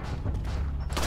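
Pistol fire in the survival-horror game Resident Evil 4: dense, booming shots over a steady roar of game noise, with the sharpest bursts near the start and the end.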